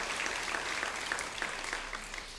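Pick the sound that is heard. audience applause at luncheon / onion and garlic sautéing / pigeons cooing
audience applause at luncheon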